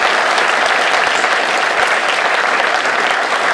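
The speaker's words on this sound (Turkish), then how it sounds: "yönetim kurulumuzu güçlü bir alkışlıyoruz arkadaşlar" A loud, dense round of applause from an audience at a student gathering honoring the board of directors, continuous vigorous clapping that stays strong throughout the few seconds.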